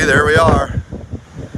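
Wind gusts across the balcony of an extended RV on a cold day, a loud rushing burst that fades after about half a second, with someone talking over it.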